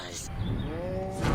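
A cow in the Destroy All Humans video game lets out a long, low moo, close and loud over game background noise, with brief sounds before and after.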